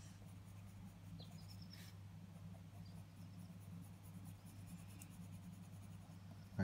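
A pencil cross-hatches steadily on paper while finishing a drawing of Goku, a continuous soft scratching of quick back-and-forth strokes, close and quiet with no talking.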